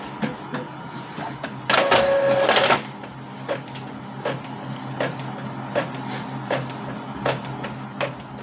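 An Epson L3110 inkjet printer runs a full A4 photo copy, giving a steady mechanical whir with a louder burst of feed noise early on, then regular soft clicks and thumps as the print head travels back and forth.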